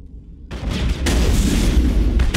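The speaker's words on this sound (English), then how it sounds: "Face full of buckshot." Loud shotgun blast from Mass Effect gameplay, a sudden booming crack after a quiet half-second, followed by a second burst and sustained rumbling gunfire-like noise.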